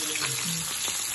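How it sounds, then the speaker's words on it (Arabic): Fish frying in a pan, giving a loud, close, steady crackling sizzle that fills the whole moment with no voices. "وهاني نقلي في الحوت"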